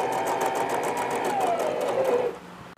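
Close and loud, a sewing machine whirs continuously as it stitches the side seam of a baby frock, holding a steady hum before stopping near the end.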